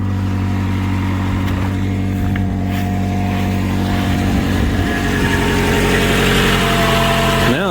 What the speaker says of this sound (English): it smoothed back out once the oil pressure built up and everything is being timed the way it's supposed to again, and it's just a happy engine again